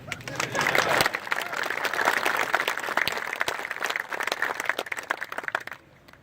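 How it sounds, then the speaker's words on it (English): A crowd of troops at a military unit reunion applauding a lieutenant, a loud, dense burst of clapping with some background voices that keeps up for about five seconds before cutting off to near silence. "Give the lieutenant a round of applause."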